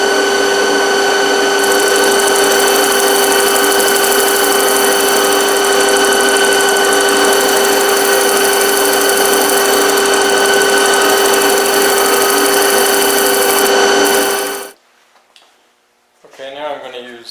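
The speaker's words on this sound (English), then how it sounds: "So I'll cut this out on a bandsaw and then do some final shaping at the disc sander" Woodworking power tools run on a nightstand top: a bandsaw's steady whining hum with strong tonal lines runs for about fourteen seconds, then cuts off abruptly, followed by a quiet pause and a brief spoken voice.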